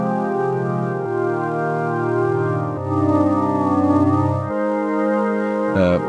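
Electric guitar chords played through a delay pedal set to a long delay for a lo-fi cassette tone, each chord smeared by trailing repeats, steady and close with no talk.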